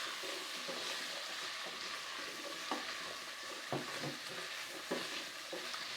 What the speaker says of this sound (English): Not disturbed at all with occasional sizzle.